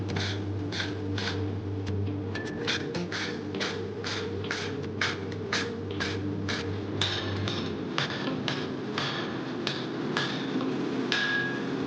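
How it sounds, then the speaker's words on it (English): A hammer forges a blade with a long run of steady, ringing strikes, roughly two per second, close by and clear over a faint low background hum. "The beating heart of a reliable blade is a matter of going at it, hammer and tong."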